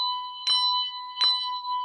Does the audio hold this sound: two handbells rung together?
yes